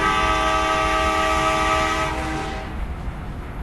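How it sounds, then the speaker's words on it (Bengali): A train horn blares loud and close in one sustained, steady tone for about two seconds, then cuts off, leaving the low rumble of the moving train. "আর একটু হরেন দেই।"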